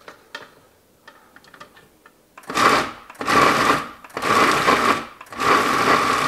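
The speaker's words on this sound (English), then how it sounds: "I'm just going to add those to the food processor, and we'll just start chopping those up." A food processor chops bacon bits and onions in four loud, pulsing bursts of motor whir separated by short pauses, preceded by a couple of seconds of light clinks and handling.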